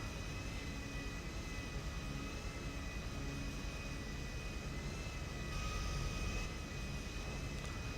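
A Nimbus plane in the video game GTA V, its engine a constant loud roar with a steady high whine, unchanging and alone throughout.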